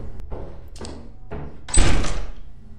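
Metal doors in Lethal Company: a few heavy thuds and rattling pushes build to one loud clanging slam near the end, close and mostly free of talk.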